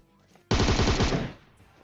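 A rapid burst of automatic gunfire from the mobile battle-royale game PUBG Mobile, loud and close, lasting under a second before cutting off and leaving quiet game ambience.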